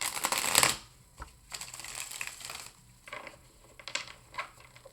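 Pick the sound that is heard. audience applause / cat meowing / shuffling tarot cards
shuffling tarot cards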